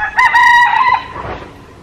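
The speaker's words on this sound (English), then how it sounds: "Crazy roosters." A single rooster crow rings out close and loud, a harsh rising call that trails off into a fading end.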